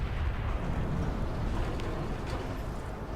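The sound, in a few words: Titan weapon strike exploding on orc, Space Marine video game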